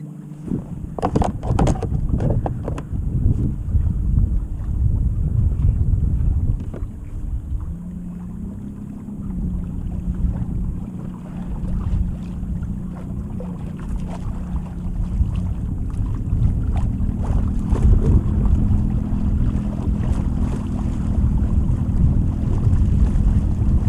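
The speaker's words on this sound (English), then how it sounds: "It's always freaking windy at this lake" Wind roars and buffets against the microphone outdoors on a lake, with low rumbling gusts and faint water sloshing, steady throughout with no talk.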